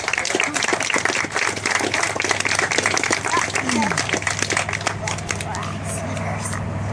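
An audience claps for the four surviving teams at a survival trial awards event, a dense, lively round of applause close by with some voices mixed in, thinning toward the end.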